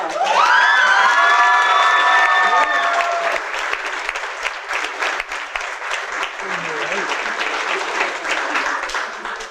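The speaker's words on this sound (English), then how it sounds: "so please clap really loudly for Emmy Carr." Loud audience applause with cheering and whoops at the start of a children's theatre production of Fiddler on the Roof, then sustained clapping that gradually thins out.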